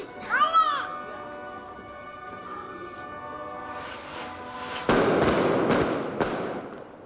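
Daytime fireworks for Holy Week in Guadalupe go off in several sharp, loud bangs and crackles in the second half, after a whistling rise, with a crowd murmuring and children's voices in the background.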